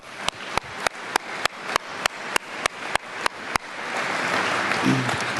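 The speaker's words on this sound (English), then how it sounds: "Let's give her one more round of applause." At an agricultural alumni fish fry, a run of sharp, evenly spaced loud claps builds into broader, rising crowd applause that fills the room toward the end.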